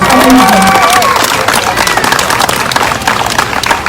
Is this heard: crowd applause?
yes